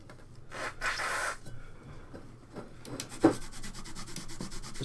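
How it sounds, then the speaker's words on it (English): Rag rubbing and wiping over the plastic case of a grey ZX Spectrum +2 after a spray of contact cleaner, a close, steady scrubbing texture with a brief sharp knock partway through. "I'll just give it a blast with some contact cleaner, and we'll use a rag as well."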